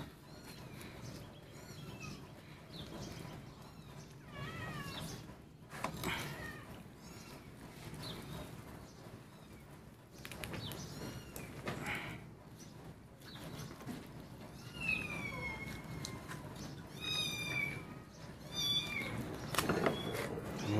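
Several hungry pet cats meow repeatedly, rising and falling cries scattered across a busy kitchen with clattering and background noise.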